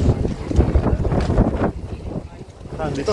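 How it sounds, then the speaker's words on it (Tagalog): Gusty wind buffets the microphone with rumbling bursts outdoors at an outlet shopping village in Kildare, Ireland, during light drizzle, and voices can be heard in the background. "Malakas ng hangin."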